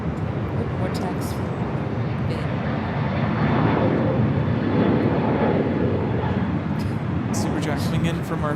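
An MD-11 freighter moving at LAX airport makes a loud, steady engine roar and rush that holds throughout, slightly swelling midway. Brief clicks and faint speech-like sounds sit on top.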